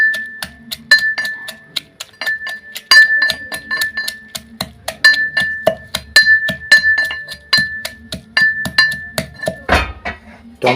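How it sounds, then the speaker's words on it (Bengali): Tomatoes and chilies pounded by hand in a mortar for mango leaf bharta make sharp, ringing clinks. The strikes repeat close by in a steady, slightly uneven rhythm, with no voices. "টমেটোগুলো একটু ছেঁচে নিলাম।"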